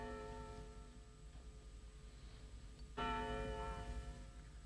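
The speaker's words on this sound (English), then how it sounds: "why don't they stop ringing that bell? They've been ringing it day and night." A church bell rings on and on with a sustained, humming tone, swelling louder about two-thirds of the way through, alone with no voices present.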